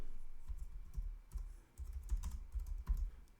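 Soft, quick keystrokes tap on a computer keyboard in short irregular bursts, close and quiet, with no talking.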